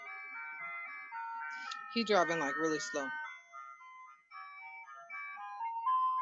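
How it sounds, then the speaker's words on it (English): An ice cream truck's looping electronic jingle plays steadily at a moderate distance as the truck passes slowly, while a person talks briefly over the melody partway through. "let me let you see this ice cream truck"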